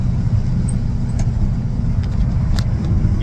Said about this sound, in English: Wind noise is nuts.